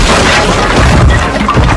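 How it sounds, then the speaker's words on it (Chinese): A landmine explosion in an action film gives a loud, dense crashing blast of broadband noise that fills the whole moment. "碰到了男人刚布置的半雷，爆炸声吸引了纹身男的注意"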